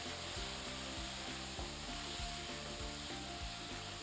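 Stir fry with garlic powder, barbecue seasoning and spices sizzling steadily in a pan, a continuous crackling hiss with faint scraping from stirring.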